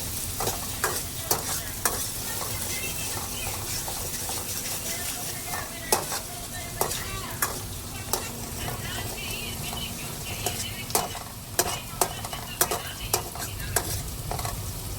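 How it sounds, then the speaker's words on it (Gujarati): Onions frying in a pan on a gas stove, with a constant sizzle and frequent sharp spoon clacks against the pan as they are stirred. "ડુંગળી તળાઈ ગઈ."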